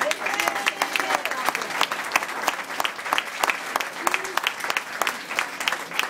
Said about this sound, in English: I want a huge round of applause for them